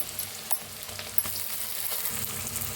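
Ground onion masala paste, with onion and a pinch of asafoetida, sizzles loudly and steadily in a hot pan, with sharp stirring clicks scattered through the dense frying crackle.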